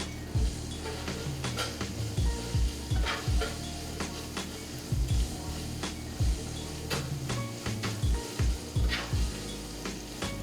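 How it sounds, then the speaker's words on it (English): Asparagus sizzles in hot olive oil in a pan on a stove that has been turned off: a steady, close crackling hiss broken by scattered clinks and scrapes of a utensil against the pan. "Turn the stove off, then add your asparagus to it."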